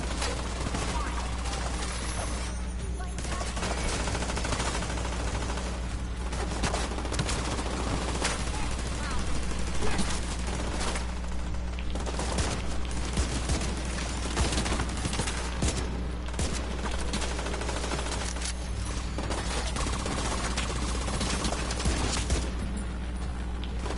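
Rapid gunfire and bursts of shots in The Division 2 on PS4, dense continuous volleys through the whole stretch, with a steady low hum beneath.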